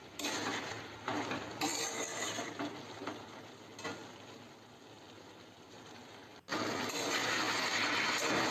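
Malabar spinach with pumpkin and hilsa fish head stirred in a pan: continuous close scraping and rustling of a utensil against the pan, with a short pause near the end before the stirring resumes.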